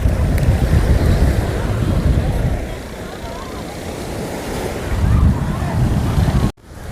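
Ocean waves wash in on Kovalam Beach near Chennai, a loud rushing surf that swells, eases, then builds again, mixed with gusty wind on the microphone before a sudden cut near the end.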